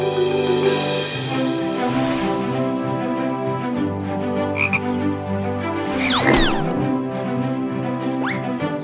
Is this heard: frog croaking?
yes